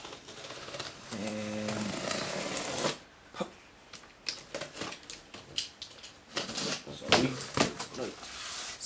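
A cardboard box holding a Samsung SA350H 24-inch LED monitor is cut open with rapid scraping and ripping bursts that stop and start, close up, while a person talks over the cutting.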